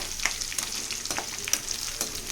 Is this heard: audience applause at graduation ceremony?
no